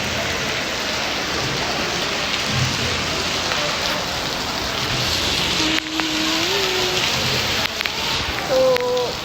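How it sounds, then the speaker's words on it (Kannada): Heavy rain pours down near a temple and lake, a dense, unbroken hiss of falling water with a few brief squeaky tones near the end. "ಎಷ್ಟು ಜೋರು ಮಳೆ"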